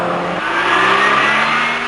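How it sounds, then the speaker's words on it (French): A 1984 Peugeot GTI engine revs steadily and loudly, its pitch rising gradually while the car drives, with a continuous close engine whine and no voices. "Le moteur Peugeot, plus rageur que musclé, est bien épaulé par une boîte impeccablement étagée"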